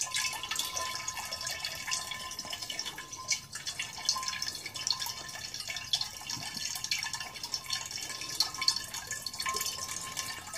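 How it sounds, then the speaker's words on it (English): Steady trickle and drip of water running through a Vinbrite Mk3 wine filter pad, a continuous close watery patter with no voices. "You've got the water coming in."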